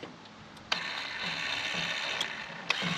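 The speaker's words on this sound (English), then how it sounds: "I think that sounds like ball screw to me." The ball screw of a linear actuator on a Walker zero-turn mower ratchets at the end of its travel, giving a continuous mechanical whir broken by a few sharp clicks, heard close and alone.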